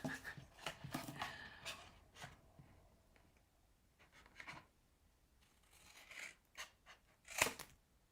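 Scissors cutting a paper flip top box template, with intermittent snips and crisp paper rustles in short bursts separated by quiet pauses, close and faint.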